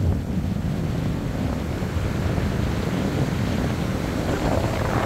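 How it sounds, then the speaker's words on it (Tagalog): Strong wind in the aftermath of Typhoon Uwan buffets the microphone with a steady, heavy rushing roar throughout, no voices present. "lakas ng hangin"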